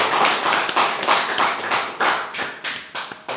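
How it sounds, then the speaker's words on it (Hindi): An audience claps at a product talk about a premium health drink, the applause a dense, steady patter of many hands with rhythmic accents, fairly loud and without talk over it. "एक बार आप सबके ताली चाहूँगा।"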